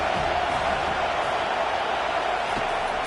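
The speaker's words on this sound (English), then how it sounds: "Decibels rising as the crowd gets behind this defense on third down." A stadium crowd roars in a college football video game as the defense lines up on third down, a dense, steady wall of noise held at one loud level for a few seconds.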